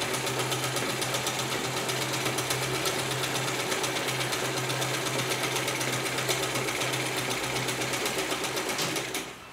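A sewing machine runs continuously, stitching the hem along the bottom of a dhoti salwar, its fast even mechanical whirr and needle clatter close and loud throughout before easing off at the end.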